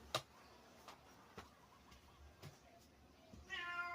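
A few faint, sparse ticks followed by a short cat meow near the end, quiet and fairly close.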